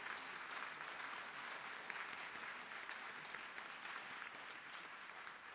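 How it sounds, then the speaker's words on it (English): An audience applauding a choir at a Eucharistic liturgy, a sustained, even wash of clapping from a large crowd in a big hall, steady throughout at a moderate distance with no talking. "A round of applause for the wonderful choir and Paul Kelly."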